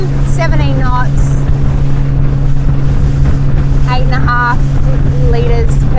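Highfield 390 Sport boat crossing a wake at 4,000 RPM and 17 knots, engine drone and water rush loud with wind buffeting, a person talking over it.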